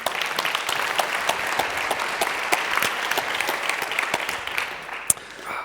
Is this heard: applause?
yes